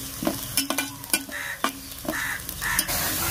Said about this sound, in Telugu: ఉల్లిపాయ దోరగా వేయిద్దాం